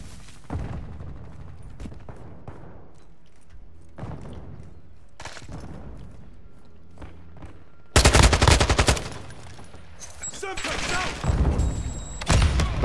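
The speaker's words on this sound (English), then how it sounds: "I'm taking fire!" Gunfire in Call of Duty: Modern Warfare, with loud bursts of automatic fire and heavy impacts building after several seconds of quieter scattered shots, while players talk throughout.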